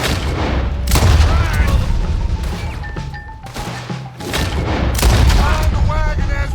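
Heavy gunfire and booming blasts erupt during a wagon shootout in Red Dead Redemption 2, loud, overlapping shots and crashes under frantic shouted voices, with a brief lull midway before the firing resumes.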